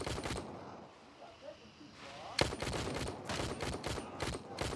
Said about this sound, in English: We got gunfights here, though.